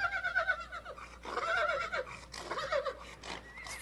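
Horses whinny repeatedly in overlapping, wavering calls, fairly close and loud, with no talking.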